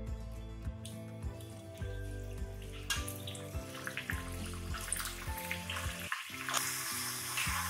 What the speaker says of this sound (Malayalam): ഇനിയിപ്പോ നമുക്ക് എണ്ണയിലിട്ടിട്ട് വറുത്തെടുക്കാം.